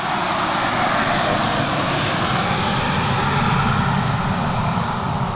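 Boeing 737 jet engines roaring during takeoff beside a runway at Alta, a loud, sustained broadband roar that swells slightly as the airliner passes close by, with no talking.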